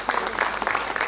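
Brief burst of dense audience clapping welcoming Zestaponi municipality representatives on stage at the Imereti's Voice children's music festival jubilee concert.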